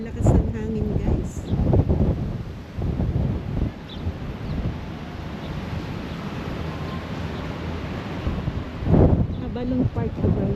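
Strong wind buffets a microphone in Abalong Park, making a steady low rumble and gusts under bursts of nearby talking.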